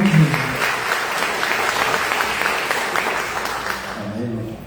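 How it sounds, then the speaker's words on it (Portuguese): A church congregation applauds steadily and fairly loudly to welcome the pastor, a broad continuous patter with a few voices mixed in near the start and end. "Vamos receber o pastor com as palmas para o Senhor."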